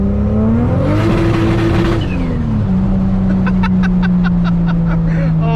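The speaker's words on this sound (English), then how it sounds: "I like the rev limiter too. It's got like that, like the slappy kind." A Toyota Supra fitted with a bigger turbo holds a steady engine drone against its rev limiter, a loud close rasp with rapid slappy stutters toward the end, mixed with background voices.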